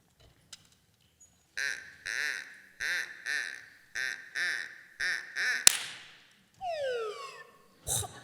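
A performer's voice imitates duck hunting on an old-time radio show: a run of about six nasal, rhythmic quacks, a sharp gunshot-like burst, then descending whistling wing sounds and a final crack, close and loud.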